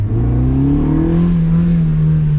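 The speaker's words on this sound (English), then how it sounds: "The induction roar." A close, loud induction roar from a Honda Civic with a swapped D16Y8 engine rises in pitch as the car accelerates, a steady intake drone with no voices.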